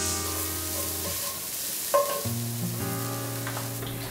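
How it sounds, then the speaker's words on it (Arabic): Onion and garlic fry in heated oil in a pot, a soft steady sizzle under sustained background music tones, with a brief clink of a utensil midway. "حمر البصل والثوم حتى يذبلا"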